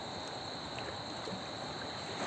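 Water flows in a steady, even rush, a continuous murmur of the Ganges river at Rishikesh with no other sounds.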